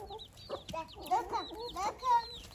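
Chicks and hens on a farm pecking at feed grown in the garden, giving soft chirps and clucks in a busy scatter of short calls, close by, with a voice now and then.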